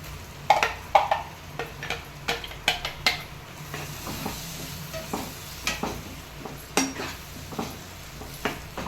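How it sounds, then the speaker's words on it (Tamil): Ground tomato sautéing in oil in a pan, with a steady soft sizzle under repeated scrapes and clinks of a utensil stirring against the metal, close and moderately loud, no talk. "இதை நல்லா வதக்கிட்டு அப்புறம் பட்டாணி போடணும்."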